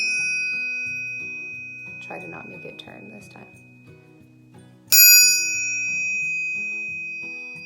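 A handheld metal triangle is struck once, giving a bright, clear ring that sustains and slowly decays, after someone speaks softly nearby.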